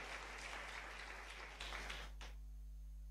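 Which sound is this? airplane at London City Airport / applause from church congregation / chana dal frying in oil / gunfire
applause from church congregation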